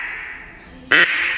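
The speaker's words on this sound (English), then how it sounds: "So now take the duck call and whistle the word hot" A blown duck call gives one short, loud, nasal quack close to the mic, sharply breaking a quiet, steady background.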